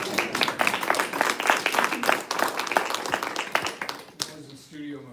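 An audience at a design competition presentation in a synagogue claps in a dense, lively burst of applause. It tapers off near the end as a voice begins talking.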